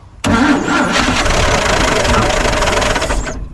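A 1955 Chevy engine cranks and catches almost at once, then runs loud and rough close by for a few seconds before cutting off.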